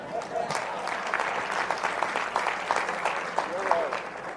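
An audience at a leadership lecture breaks into sustained applause, a dense wash of clapping from a large crowd, with voices and a speaker talking over it.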